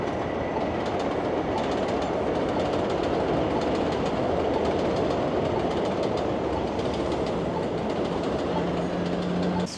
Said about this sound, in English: capture the subway passing above